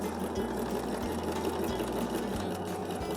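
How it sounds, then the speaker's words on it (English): A sewing machine with a ruler foot stitches in the ditch, its motor humming steadily up close with a regular mechanical stitching rhythm and no talk. "I can continue to stitch in the ditch"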